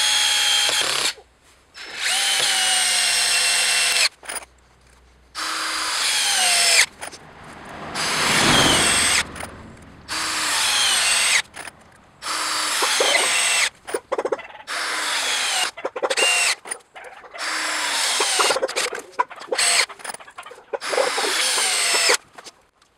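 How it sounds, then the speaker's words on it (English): A Hitachi DV18DCL2 cordless drill whirs in repeated bursts as it bores into a block of hardwood, pausing between runs, with occasional creaks, wood cracking and strain as the bit bites. "You can actually hear the wood cracking."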